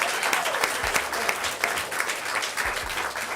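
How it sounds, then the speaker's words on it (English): Audience applause at a live theatre company event, sustained clapping from a modest crowd with a few low thumps, steady throughout. "A big old round of applause to him too."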